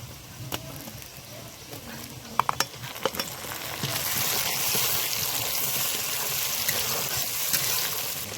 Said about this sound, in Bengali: পেঁয়াজটা হালকা লাল হয়েছে আর একটু লাল করে ভাজবো